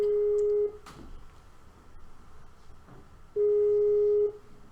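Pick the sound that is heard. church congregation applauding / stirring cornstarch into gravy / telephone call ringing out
telephone call ringing out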